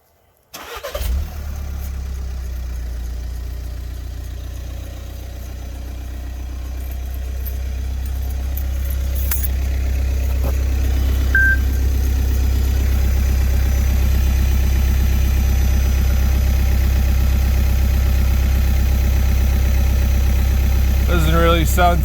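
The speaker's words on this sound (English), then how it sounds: "Now we'll go start my car up, see what it sounds like." A 2014 VW Passat TDI diesel with its muffler deleted cranks and fires up, then settles into a steady, loud low idle that holds for about twenty seconds.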